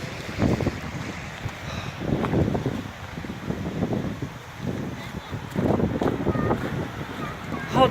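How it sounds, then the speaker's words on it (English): Blizzard wind in Illinois in January 2019 roars and buffets close against the microphone in uneven gusts, loud and continuous with rising and falling surges. "This is a major blizzard."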